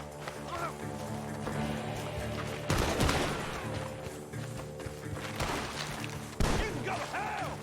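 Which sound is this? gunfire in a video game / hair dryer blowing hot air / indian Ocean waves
gunfire in a video game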